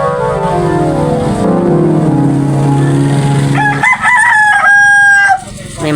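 A rooster crowing loudly and close by, a long drawn-out call followed by a second sharper crow, with no one talking.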